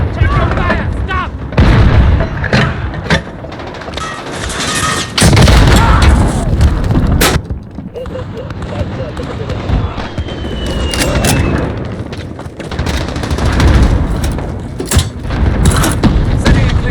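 Gunfire and explosions in Call of Duty Modern Warfare Ground War, loud booming blasts and shots scattered across a busy battlefield, with radio-style voice callouts in between.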